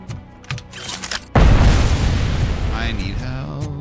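A grenade in the RoboCop: Rogue City game goes off with a sudden heavy boom, and a long rumbling roar trails after it. Softer clicks and thuds come just before, and a voice speaks over the din.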